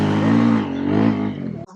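A motorcycle engine on a road trip drones loudly and close with a steady harmonic hum, rising and dipping slightly before cutting off abruptly near the end.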